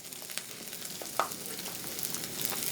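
Green peppers sautéing in a pan with garlic give a faint, steady sizzle that runs throughout, with a brief brighter crackle near the middle.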